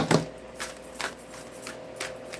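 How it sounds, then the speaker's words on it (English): Tarot cards shuffled by hand in a quiet room, with one sharp riffle at the start and then several softer slaps and flutters spaced about half a second apart, close and clear with no talk. "Two shuffles."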